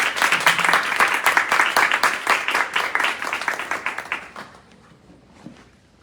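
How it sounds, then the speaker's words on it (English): Warm applause for panelists at a History Café talk, a small audience clapping close and fairly loud with distinct individual claps, tapering off and dying out after about four seconds into near silence. "Everyone give our panelists a warm applause."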